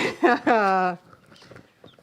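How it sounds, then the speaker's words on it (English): Loud nearby ducks give a burst of harsh, harmonic calls lasting about half a second, followed by fainter scattered quacking and rustling. "Oh, they're so loud. So they are the ducks."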